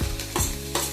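Chopped onion frying in a pan for a banana stem stir fry, with a steady sizzle broken by a few louder bursts of stirring, close and alone with no talk.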